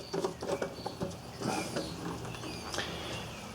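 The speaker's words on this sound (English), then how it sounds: "So this is a Phillips screw. So we're going to go ahead and remove that one." A Phillips screw is being backed out of the engine shroud of an MTD riding mower, giving a close series of small ratcheting clicks and metallic taps, uneven in rhythm, against quiet background.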